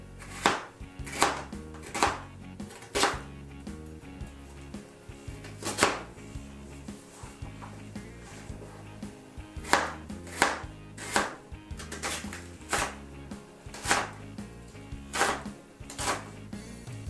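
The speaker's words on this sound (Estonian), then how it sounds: "Ja praegust on ülesanne siis mul lõigata sibulatest pool rõngad." A knife chops home-grown Stuttgarter Riesen onions into half rings on a cutting board, with steady sharp knocks repeating about once a second, close and clear in a quiet kitchen.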